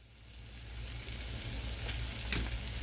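Seasoned green peppers fry in a pan for ramen noodles, giving a steady close sizzle and crackle with faint stirring and no talk.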